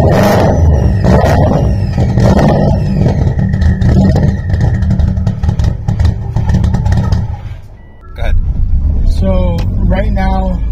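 Subaru WRX engine cranking and running rough, uneven loud idle with revving surges and clatter, dipping briefly near the end before catching again; people talk over it.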